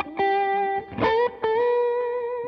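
Sustained electric guitar chords run through an overdrive effect on a Line 6 POD Go worship preset, with soft delay and reverb, loud and saturated, struck a few times with a brief strummed burst in the middle.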